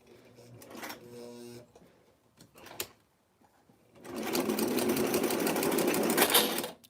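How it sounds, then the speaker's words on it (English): Domestic sewing machine stitching knit T-shirt fabric, with a short pitched run at the start, a few clicks and handling noises, then a long steady loud stretch of fast stitching near the mic. "Let's keep sewing."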